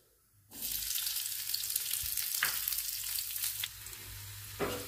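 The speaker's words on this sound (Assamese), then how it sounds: "পিঁয়াজখিনি অকণমান ভাজি ল'ম।" Onion and chili frying in hot oil on a gas stove, a steady bright sizzle starting abruptly after a moment of quiet, with occasional stirring scrapes and no voices.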